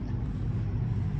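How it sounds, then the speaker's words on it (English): A C-130 Hercules transport aircraft coming in near an air museum at Comox, heard as a steady, heavy low engine drone that fills the short stretch without letup. "Oh yeah, I got a big transport coming in there. That's all the noise is. I think that's a 130. Looks like a Hercules."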